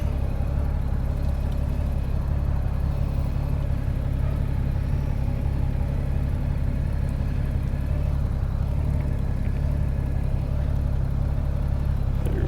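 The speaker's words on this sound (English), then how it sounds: "See if I can back a trailer out." Vehicle engine rumbling steadily and close while backing a trailer out on a motorcycle road trip, with a low, constant drone throughout.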